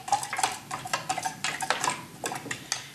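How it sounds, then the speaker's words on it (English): A small spoon stirs watercolor paint into a cup of water, giving a run of light, irregular clinks and taps against the container with no talk. "I'm going to stir it and stir it."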